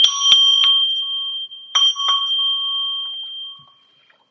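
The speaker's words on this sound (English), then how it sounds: "Watch your ears. I'm gonna hit the bell." A bell struck several times in quick pairs, each hit leaving a clear, high, sustained ring that slowly fades to silence, close and alone.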